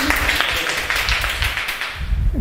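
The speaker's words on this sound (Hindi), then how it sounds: "उस बच्चे के लिए ताली" A class of students applauding a classmate during a physics lesson, a dense burst of many hands clapping close by, steady for a couple of seconds.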